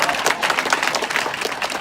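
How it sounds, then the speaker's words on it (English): Brief applause from a congregation at a ministry gathering, a thick wash of hand claps, loud and even, lasting under two seconds. "Round of applause, please"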